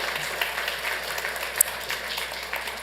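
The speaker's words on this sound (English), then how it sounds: "let's give him a round of applause." Applause from the audience at a city council meeting in Santa Ana, a steady patter of many hands at moderate volume with one sharp clap standing out, no talking over it.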